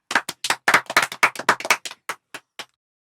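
Children in a classroom clap together in a burst of irregular claps that thin out to a few scattered last claps before stopping.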